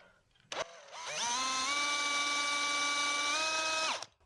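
A power drill whirs steadily for about three seconds as it bores a pilot hole into the wooden base of a hole-saw Christmas ornament, with a brief click before it spins up and a clean stop at the end.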